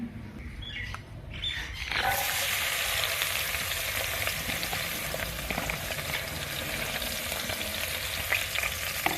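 Onions sizzle loudly in hot ghee for chicken biryani, the frying bursting in after a quiet start and then holding steady and close with faint crackles, with no voices.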